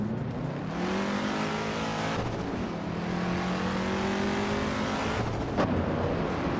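A classic 1969 Ferrari 365 GTB racing in a video game, its engine droning steadily at high revs with gear shifts and pitch changes, loud and continuous with no talk.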